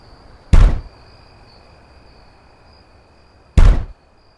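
Two heavy thuds against a house's front door, about three seconds apart, each loud and close with a short rumbling decay, over a quiet background with a faint steady high hum.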